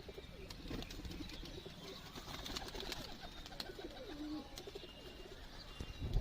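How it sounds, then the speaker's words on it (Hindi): Pigeons cooing inside a loft in R.S. Pura, Jammu, soft repeated low coos over quiet background chirps and faint flutters, moderately distant with no talk. "आप दोस्तों को ये कैसे लगे कबूतर सुनील भाई के"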